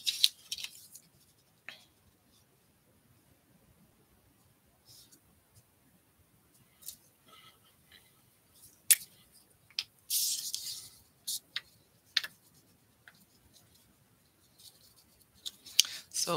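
Scissors clipping paper card tags, a scattered series of short crisp snips and rustles separated by quiet gaps, close and soft, with a longer paper rustle near the middle.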